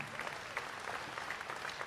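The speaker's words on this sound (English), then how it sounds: "a round of applause in advance for our ringmen and everybody making things happen" An auction crowd at a state fair sale of champions gives dense, steady applause, its many claps blending into a continuous patter at a moderate distance.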